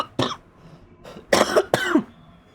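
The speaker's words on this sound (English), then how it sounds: "We only learned how to cough as a reflex to expel things from our body that aren't pizza." Harsh coughing fits from one person, four bursts in quick succession with short pauses, loud and close with no other talk.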